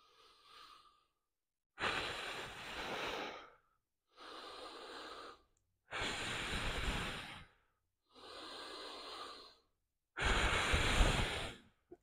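Deep, slow breaths during a side plank workout, five long broadband inhales and exhales about two seconds each, separated by brief silences, close and fairly loud with no talking.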